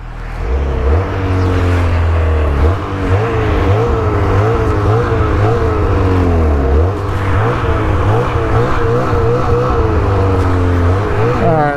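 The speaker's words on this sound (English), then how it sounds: "Let's wait for these cars to go by." Several cars pass one after another on a rural road near a 2019 Ski-Doo MXZ 600 snowmobile, loud close engine drones rising and falling continuously with no talking.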